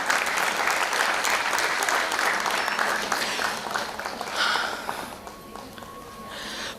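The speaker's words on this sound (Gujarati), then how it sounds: "જ્યારે સાંગલીથી, નાસિકથી, પૂનાથી, દાણુથી જ્યારે અહીંયા આવે ત્યારે તો તાળી તો પડવી જ જોઈએ" An audience at a school awards ceremony honoring top students and teachers breaks into sustained, fairly loud applause that holds steady for several seconds before gradually thinning out.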